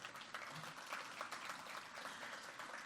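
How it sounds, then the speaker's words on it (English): A room of attendees at a chamber of commerce gathering applauds elected officials with dense, continuous clapping that stays steady for a few seconds. "If we can give them all a round of applause."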